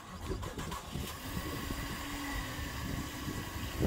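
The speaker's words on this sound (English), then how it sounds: "Start that six cylinder up." Six-cylinder car engine starting up, a quiet cranking stutter at the start that catches into a rough, low idle running evenly to the end, with no voices.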